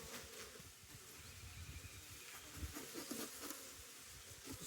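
Honey bees buzz steadily around an open hive during the year's first spring inspection, a dense, close swarm drone with scattered louder passes and faint handling sounds, no voices.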